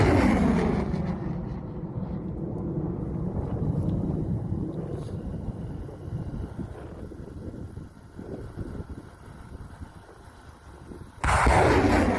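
A heavy artillery blast opens the clip, followed by a long rumbling echo and gusts of wind, then a second loud shot at the end.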